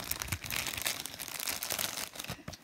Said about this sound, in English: now I'm going to open this famous plastic bag that comes on Amazon devices